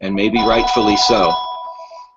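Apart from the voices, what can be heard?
telephone ringing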